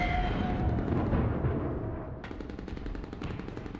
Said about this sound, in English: I'm gonna machine gun this